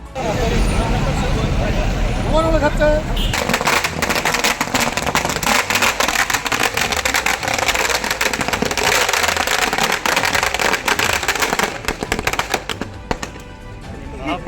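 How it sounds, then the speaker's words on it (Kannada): Congress party workers set off strings of firecrackers in a town street to celebrate an election win. After a few seconds the strings burst into a loud, dense rattle of pops that keeps going, with voices and traffic noise underneath. "ಕಾಂಗ್ರೆಸ್ನ ಕಾರ್ಯಕರ್ತರು ಸೇರಿಕೊಂಡು ಪಟಾಕಿ ಸಿಡಿಸಿ ಸಂಭ್ರಮಾಚರಣೆಯನ್ನು ಆಚರಿಸಿದರು"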